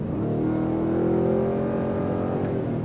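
A 2024 Ford Raptor R truck's V8 engine revs loud and close, a deep, rough roar that rises in pitch, holds, then eases back down, with no voices over it.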